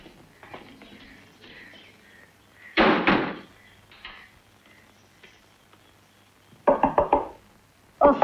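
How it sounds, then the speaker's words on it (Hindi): A door is pushed shut in a home, giving a loud knock-like thud near three seconds, followed by a quick cluster of sharp knocks near seven seconds and one more at the end, with soft background sound between. "दरवाजा बंद कर लो।"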